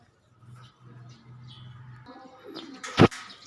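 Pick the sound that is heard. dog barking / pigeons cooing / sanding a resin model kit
pigeons cooing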